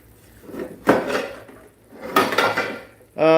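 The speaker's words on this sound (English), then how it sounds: "I got to find my lid to this pan." Metal pans and lids clatter and clank in a kitchen cupboard during a home cake-baking session, with two bursts of rummaging clatter and a brief sharp ringing knock at the end.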